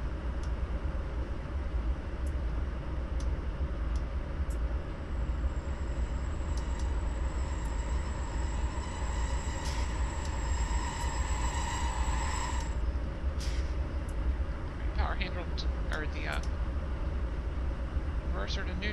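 A U36B diesel locomotive in the Train Sim 2015 video game coming to a stop, a steady low engine rumble with a long brake squeal in the middle and a few metallic clanks near the end.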